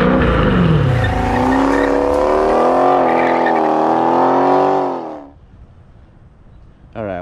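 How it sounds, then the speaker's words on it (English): A Dodge Challenger Scat Pack with its active exhaust deleted lets out a loud, deep engine roar that holds for several seconds, then drops away to a low idle before a brief revving burst. "Your Dodge Challenger Scat Pack."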